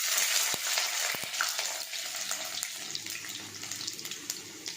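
Fenugreek seeds sizzle and crackle in hot oil in a pan, a steady frying hiss with scattered sharp pops, fairly close and continuous throughout with no voices.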